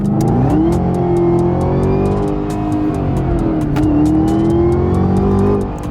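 A Camaro ZL1 1LE V8 accelerating hard, a loud, steady engine roar that climbs in pitch through the gears, heard close up and without voices.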